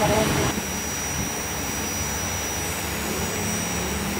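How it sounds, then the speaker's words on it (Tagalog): A car's radiator fan keeps running after the engine is switched off, producing a steady whooshing whir that continues unbroken after a brief louder moment at the start. "pinatay na natin yung makina pero panay under pa rin yung kanyang radiator fan"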